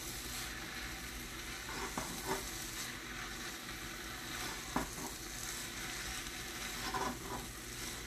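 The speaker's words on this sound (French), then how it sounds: "Et on brasse pour que la farine vienne sur les" Flour is stirred into vegetables in a hot pan for a béchamel sauce, with a steady close sizzle and a few scraping strokes of the spoon.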